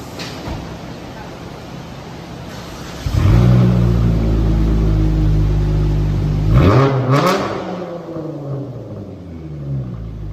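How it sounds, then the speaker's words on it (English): A straight-piped V6 Dodge Charger GT with a 5-inch exhaust tip idles, then roars up in a loud, deep rev that holds and rises again before falling back, heard up close. "Rev it one more time for me."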